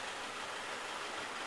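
A Jitney shuttle vehicle at the Sandals resort runs with a steady, broadband engine drone and road noise, continuous and fairly even throughout, with no talk.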